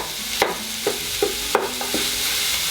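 Impossible Beef plant-based mince being broken up in a hot pan, with a steady sizzle under several sharp spatula scrapes and taps spaced about half a second apart, close and clear.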